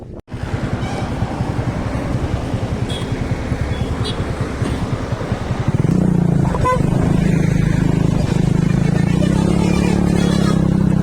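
A Honda Dio scooter fitted with a modified silencer rides on a highway, its exhaust a loud, continuous close-up drone that deepens and grows heavier partway through as the throttle opens.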